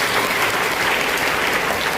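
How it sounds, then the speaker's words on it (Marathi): Strong, steady applause from an audience at a student arts and education event, a dense, continuous wash of clapping filling the whole stretch without any speech. "मग एकदा वंदनीय बाळासाहेब ठाकरेंसाठी जोरदार टाळ्या."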